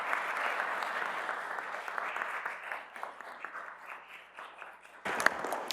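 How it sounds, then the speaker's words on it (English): A council meeting room fills with sustained applause that is moderately loud and fairly even, then a sudden louder burst of handling noise near the end. "Please join me in a round of applause."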